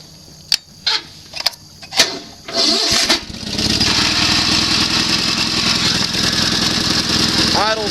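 A Sears SS16 garden tractor engine, running on old gas, cranks with a few sharp clicks and sputters, then catches and settles into a steady, close, loud idle rattle.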